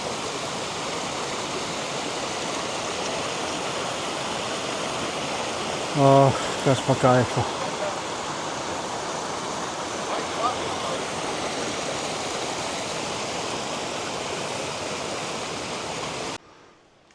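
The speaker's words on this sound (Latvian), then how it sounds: "Esam nonākuši pie kalnu upītes, kur visi atvēsinamies." A flowing mountain stream gives a steady, broadband rush of water that continues throughout, with a brief spoken remark partway through.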